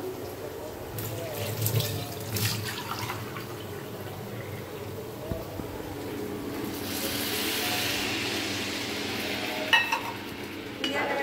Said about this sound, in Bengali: এখন এখানে আমি দিয়ে দিব পানি।